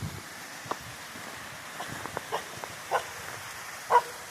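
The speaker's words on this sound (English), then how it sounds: "doggy on a leash" A dog on a leash in Chester Park gives a few faint, distant barks, spaced out near the end, over soft wind noise and quiet outdoor ambience.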